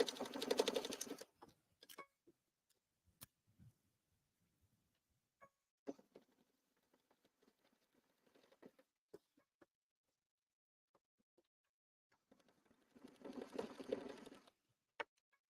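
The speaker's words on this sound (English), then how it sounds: "Do a stay stitch." A Stellaire sewing machine runs a stay stitch on a quilted grocery bag, with a short burst of rapid needle chatter at the start, scattered soft clicks and taps in between, and another run of stitching near the end.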